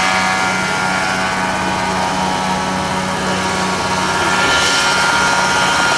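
Mosquito ultralight helicopter flying at a rotorcraft event, a loud steady engine drone with a constant hum and no pause.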